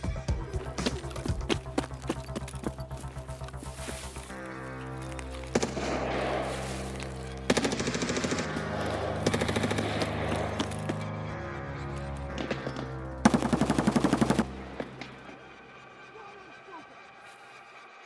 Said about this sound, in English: with all this gunfire, I figured the PMC might be in a bad spot